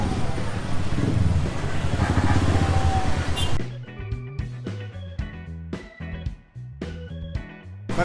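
A motorcycle engine rumbles loud and close for the first few seconds on a Manila street, then cuts out, leaving sparse clattering and knocking noises with faint voices in the background.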